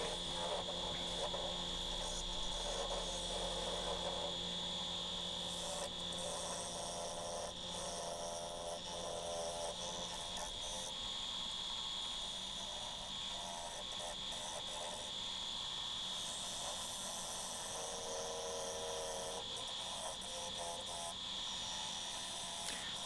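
A wood lathe hollows a sycamore bowl with a 40/40 grind gouge, giving a steady motor hum layered with continuous scraping hiss from the cut, unbroken and fairly close throughout.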